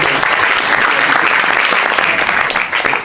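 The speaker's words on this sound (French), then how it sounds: "Eh bien, merci, on peut applaudir madame." A crowd at an improv festival show applauds a woman from the audience, loud, dense and unbroken clapping filling the whole stretch, with faint voices mixed in.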